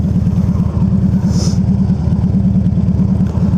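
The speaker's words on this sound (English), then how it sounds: "Some motorcycles over there." Loud, close engine chugging from motorcycles, a steady low throbbing with no break.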